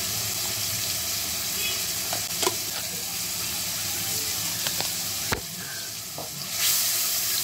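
Spices stirred and frying in oil over onion paste for a hilsa fish curry with raw banana, a steady close sizzle with a few sharp clinks of a spoon against the pan.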